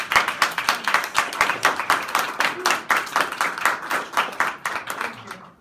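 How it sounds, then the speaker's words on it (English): A hackathon audience applauds in a room, with dense, even clapping sustained throughout at moderate distance and a faint murmur of voices underneath. "we need to give a really big applause to Maisa."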